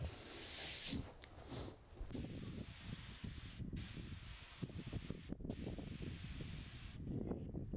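Primer and paint sprayed from an aerosol can onto a pegboard, heard as bursts of broad hissing with short gaps between passes, fairly close and without any talking.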